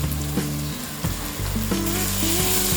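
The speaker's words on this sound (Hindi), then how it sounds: "अनियंस, टमाटोज और मसाले फ्राई हो गए।" Onions, tomatoes, salt, turmeric and red chili powder fry together in a pan for masala rice, giving a dense, continuous sizzle with a melodic tune playing over it.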